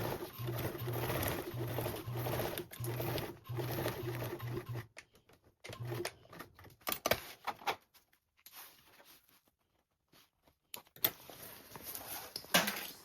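A sewing machine bastes binding onto a convertible duffle bag with a narrow seam allowance, running in steady bursts for about five seconds, then stopping and starting in short runs with quiet handling sounds between.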